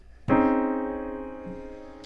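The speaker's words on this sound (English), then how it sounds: "this is the sound of the strings sympathetically ringing" Virtual grand piano note in the Reverie Kontakt library with pedal resonance layer, struck once and sustaining a long, slowly fading ring as the strings resonate sympathetically behind it, alone and fairly soft.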